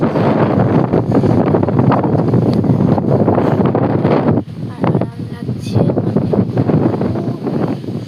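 A smooth breeze on a balcony buffets the microphone with rumbling gusts that ease briefly near the middle and then pick up again, while a person talks throughout.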